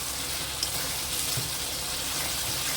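Soybean curry sautéing in a pan gives off a steady, even sizzle that hisses on without a break, close up and with no voices over it.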